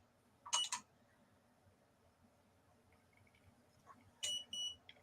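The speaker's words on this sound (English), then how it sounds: "when I first turn it on, I can set how long the beep is" An electronic pit stop timer for RC cars gives two short bursts of quick, high beeps several seconds apart in a quiet room, the second burst a little longer.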